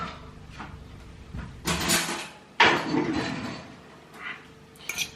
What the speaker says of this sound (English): let me just get a fork